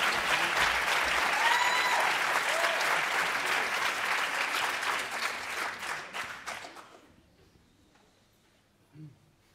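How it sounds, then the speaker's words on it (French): An audience at an apprentice theatre evening applauds a short staged scene: a loud, dense round of clapping from a full room that thins and fades out after several seconds, followed by near silence. "Bah, applaudissez-moi quand"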